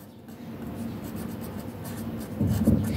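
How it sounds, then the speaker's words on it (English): A pen scratches steadily across paper, close and fairly soft, writing out a word in a maths exercise book, with a slightly firmer stroke near the end. "You write perimeter."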